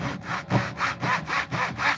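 A hand saw cuts wood for a box build in steady back-and-forth strokes, about eight rhythmic rasping passes heard up close with no voices.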